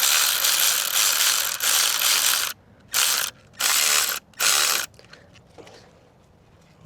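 An alternator tensioner bolt is tightened with a ratchet wrench: a long, loud run of rapid clicks, then several short clicking bursts separated by brief pauses, close and without talk.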